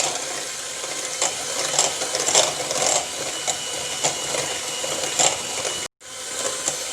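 Eggs are beaten into oil and sugar in a bowl, producing a continuous busy whirring and scraping mixing sound, close and steady, with a brief break near the end.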